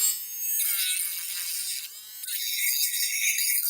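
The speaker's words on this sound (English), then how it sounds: "if you want to do some grinding, you put that in there and you press the button, and there you go. You can grind away." A small handheld electric rotary tool runs at high speed, giving a thin, steady, close whine that holds across the whole stretch with a brief dip in pitch partway through; no talk.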